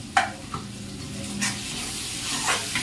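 Spice paste sizzles and fries in a pan as it is stirred, a continuous close hiss broken by a few scraping strokes of the spoon.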